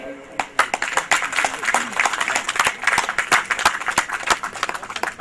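An audience at a kidney center inauguration ceremony standing to applaud a guest, Dr. Abdul Qadeer, with a burst of dense clapping that holds steady throughout, a voice heard briefly at the start.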